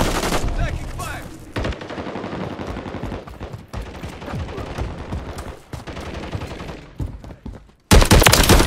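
Automatic gunfire rattles in long, dense bursts during a Call of Duty Domination multiplayer match, loud and close with brief gaps. A final sharp volley bursts out at the end, and a voice is faintly audible underneath.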